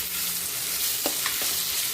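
Tomatoes and a cauliflower and prawn mixture sauté in a hot pan with a close, continuous sizzle, broken by a few quick scraping stirs.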